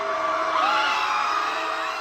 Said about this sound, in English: They'll gather outside of Butler Library and just all scream together at midnight.